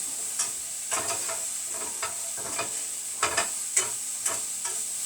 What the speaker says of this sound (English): And then these are going to saute.